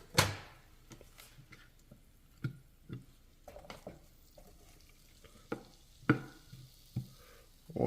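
Burgers and onions sizzle on a griddle under a faint, steady fry, broken by sharp spatula scrapes and clanks against the metal every second or so, close and fairly quiet.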